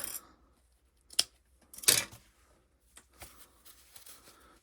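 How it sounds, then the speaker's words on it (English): Scissors snip through fabric while a coin-purse add-on is being sewn, giving a few sharp isolated cuts with a louder double snip in the middle, separated by quiet pauses. "And then we're going to get this little snip"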